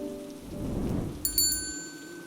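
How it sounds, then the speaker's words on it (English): Steady rain pours down in a dense, even hiss of drops, loud and close throughout, with a brief bright chime ringing out near the end. "Oh no, the rain, gotta run."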